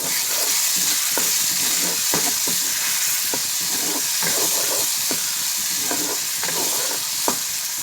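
Salt, turmeric, cumin and chilli powder mixed in hot water hit hot oil, giving a loud, steady sizzling hiss throughout, broken by scattered scrapes and knocks of a spoon stirring the pan, heard close with no talking.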